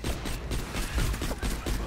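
Gunfire from the video game Borderlands The Pre-Sequel, a continuous dense burst of rapid shots filling the whole stretch, loud and busy with no clear gaps.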